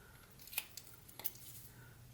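Pocket knife whittling a stop cut into wood for a Santa ornament, a few sharp close clicks and scrapes spaced irregularly over quiet room tone.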